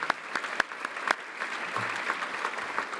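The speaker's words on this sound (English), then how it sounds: "Please join me in a round of applause." Audience at an Empire Club of Canada event applauds, a moderate, even patter of many hands with a few sharper nearby claps standing out at the start.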